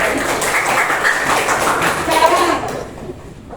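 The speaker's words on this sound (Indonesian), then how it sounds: "Tepuk tangan." Students in a classroom clap together in a dense, noisy burst that holds for under three seconds, then thins out and fades away.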